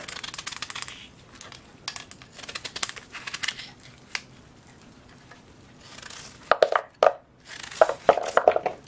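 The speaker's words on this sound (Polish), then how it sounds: "Te ziemniaki kroję teraz w drobną kostkę." A knife chops potatoes into small cubes on a board, producing quick irregular taps near the microphone. The cuts come in clusters with short pauses and grow sharper and louder toward the end.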